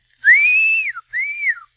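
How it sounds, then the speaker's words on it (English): A person whistles two clear rising-and-falling notes, the first long and sustained, the second shorter, close and alone with no talk. "I'll whistle like this."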